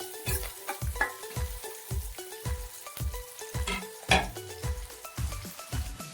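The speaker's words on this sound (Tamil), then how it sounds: "சின்ன வெங்காயம் போட்டுக்கலாம், பூண்டு போட்டுக்கலாம், தேங்காய் சேர்த்துக்கணும்." Shallots, garlic and coconut sizzle in oil in a pan, with a steady rhythm of regular stirring scrapes and knocks against the pan. No talking.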